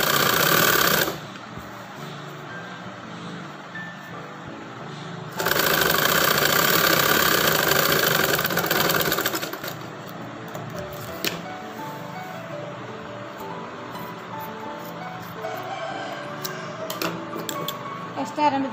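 A sewing machine stitches the side seams of a boat neck chudidar in two loud bursts of rapid whirring, followed by quieter mechanical clicking and handling noise, with a voice talking over parts.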